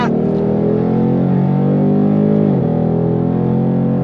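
A 2023 Ford Mustang GT California Special V8 revving under throttle in second gear, a loud continuous engine roar rising in pitch, then briefly dipping before building again, heard from inside the cabin.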